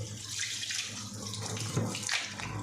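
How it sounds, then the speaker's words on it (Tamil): A little water is poured over raw chicken pieces to wash them, a short, faint trickle and splash that runs for a couple of seconds, with no one talking. "கொஞ்சமாக தண்ணி விட்டு இந்த மாதிரி நல்லா மிக்ஸ் பண்ணி கழுவிக்கலாம்"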